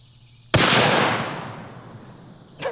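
A single sharp, loud rifle report from an MK22 firing a .338 Lapua round into a salt block, followed by a long decaying echo and a faint second impact near the end.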